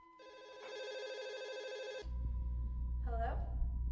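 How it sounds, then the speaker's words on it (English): A telephone rings at home during dinner: a loud, steady electronic bell trill for about two seconds, then stops abruptly, followed by low room rumble and a brief voice. "Just as we start dinner, my phone rings."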